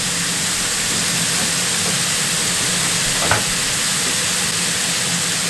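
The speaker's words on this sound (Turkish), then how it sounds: "Köftelerimiz pişmek üzere." Meatballs for homemade Burger King–style burgers fry in a pan with a steady, even sizzle and one brief clink partway through, with no talking.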